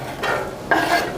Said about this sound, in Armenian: Սկզբից տապակում ենք սոխը ձիթայուղի մեջ